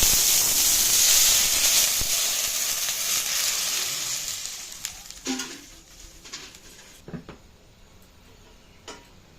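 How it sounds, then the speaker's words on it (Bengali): Water poured into a heated wok on a gas stove sets off a loud, hissing sizzle that slowly fades into a softer steam hiss, broken by a few light ticks and knocks. "গ্যাস জ্বালিয়ে কড়াই বসিয়ে দিয়েছি এটা জল দিচ্ছি"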